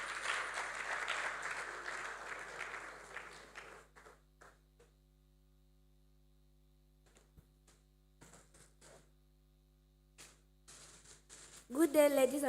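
Audience applause at a business conference greets a participant, a dense patter of many hands that fades out over the first few seconds. Scattered faint clicks and shuffles follow in a quiet, humming room before a voice begins close to the microphone at the end.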